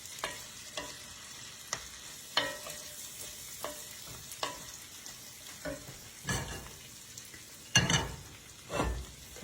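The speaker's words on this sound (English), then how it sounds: "Got my green beans in my bacon grease." Green beans frying in bacon grease in a pan, a soft continuous sizzle broken by sharp scrapes and clatters of a utensil stirring, close by and fairly quiet, with no talk.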